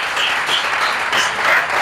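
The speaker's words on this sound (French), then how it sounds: "Est-ce que tu peux bien acclamer le Seigneur?" A church congregation applauds the Lord with steady, dense clapping that keeps going without a break, loud and close, with faint voices mixed in.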